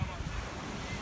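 Waves washing onto a small beach at Montgat near Barcelona, a constant surf wash mixed with wind buffeting the microphone, moderately loud and unbroken.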